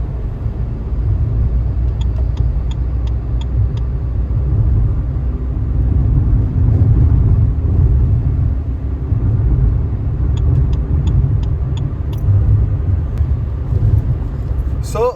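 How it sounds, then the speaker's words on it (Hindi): A Maruti Fronx running on CNG cruises at about 80 km/h, with a loud, steady low road and engine rumble heard from inside the cabin while someone talks over it. "सो इस तरीके से मैं गाड़ी चला रहा हूँ, बिल्कुल भी हार्श एक्सेलरेटर बिल्कुल भी नहीं दे रहा हूँ"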